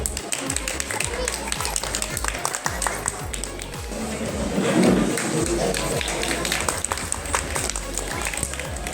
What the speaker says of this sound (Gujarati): તાળીઓના ગડગડાટથી વધાવજો.